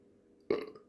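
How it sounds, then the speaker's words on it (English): A single loud, abrupt burp bursts out halfway through after quiet room tone, then trails off over a fraction of a second. "keep burping like that"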